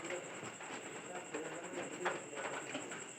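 A pet pigeon in a household coop gives soft, low coos under faint background noise, with a steady hiss and a quiet, indistinct voice in the distance.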